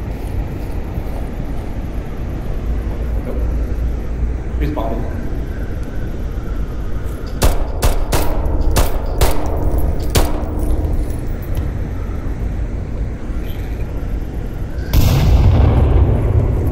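Gunfire in the VR shooter Onward, a rapid burst of about half a dozen sharp shots cracking out in the middle of the clip against steady background noise, with voices present.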